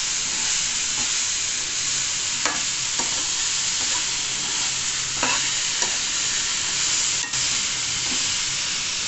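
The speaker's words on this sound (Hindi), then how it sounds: "अब पनीर डाल रही हूँ।" Paneer pieces tumble into a hot frying pan and get stirred, a steady sizzle running throughout with a few sharp spoon scrapes and clacks against the pan, close up and with no one talking.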